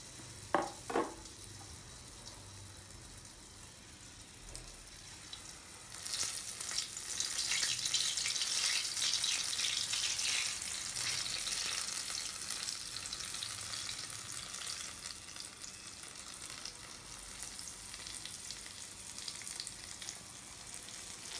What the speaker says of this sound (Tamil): காஞ்ச எண்ணெயில் பொரிச்சு எடுக்கணும்.